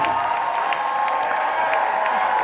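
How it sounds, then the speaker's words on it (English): A crowd at a gym gives a round of applause for a coach, a steady dense wash of clapping with some cheering and whoops running through the whole stretch. "Give a big round of applause,"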